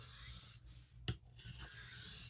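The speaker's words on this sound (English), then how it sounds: "so that I get an even sharpening from one end to the other of this blade" A knife blade rubs back and forth across a hard Arkansas sharpening stone in quiet, soft scraping strokes, with a small knock partway through, close and faint.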